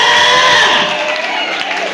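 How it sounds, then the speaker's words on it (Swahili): Church congregation applause mixed with high ululation fills the room, loud and sustained throughout with no talk. "Hebu rusha makofi na vigelegele kwa ajili ya Bwana"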